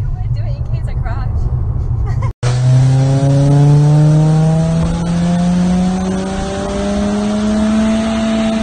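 Modified stage 3 Ford Fiesta with 327 bhp accelerating hard: a loud, close engine roar climbing steeply in pitch through the revs after a brief cut, with people talking inside the car over it.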